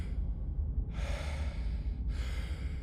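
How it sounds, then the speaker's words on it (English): Breathy panting and gasps sound in the background of the video game Slay the Princess, two long strained exhalations rising over a low rumbling ambience, close and eerie. "You can hear the panting in the background."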